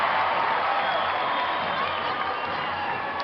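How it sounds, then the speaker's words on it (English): Steady roar of a basketball arena crowd during a free throw at the 1994 women's world championship final between China and Brazil, dense and continuous, loud throughout with no distinct voices standing out. "The crowd roars as Hortensia lines up at the free throw line and hits her first point."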